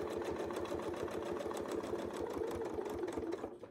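A sewing machine runs steadily at a quick even pace while stitching along an arc ruler in a quilting session, the dense rhythmic stitching filling nearly the whole stretch before slowing and stopping near the end, with no talk.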